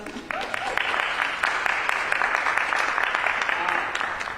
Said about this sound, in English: I see some folks want to clap. Y'all can clap.